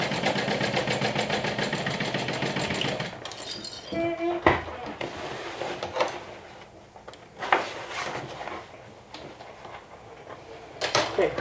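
A sewing machine stitches through two layers of lining with a fast, close mechanical whir for about three seconds, then stops, leaving scattered clicks, handling noises and faint movement.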